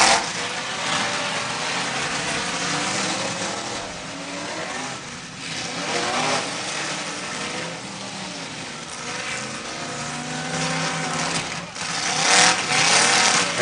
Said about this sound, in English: And that raffle car. Oh man, does that thing sound good.